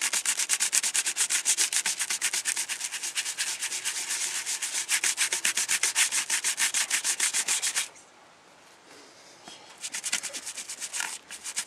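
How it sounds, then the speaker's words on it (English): A brush scrubs green paint off a plastic model with fast, rhythmic strokes up close, a brief pause, then a few more bursts of scrubbing. "So yeah, bit of scrubbing, peoples."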